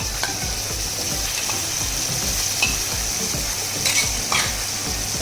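Minced mutton frying in hot oil in a wok, giving a loud, dense, continuous sizzle with repeated spatula scrapes and stirring clinks.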